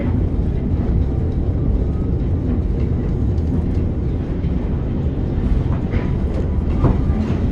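Reading and Northern train hauled by F-unit locomotives running on double track, a steady loud rumbling roll with rail clatter heard from on board, continuous throughout.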